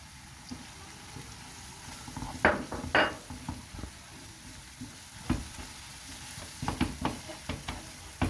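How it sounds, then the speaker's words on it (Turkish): Tomato paste and spices fry in a pan for lentil köfte, with a soft ongoing sizzle broken by sharp scraping stirs and clinks of the spoon against the pan. "Salçamız güzelce kavruldu. Şimdi baharatları ekliyorum."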